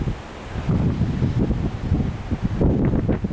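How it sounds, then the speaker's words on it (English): Strong wind after storms have passed, buffeting the microphone in loud irregular gusts and rushes with a low rumbling roar, no voices. "That wind is something else."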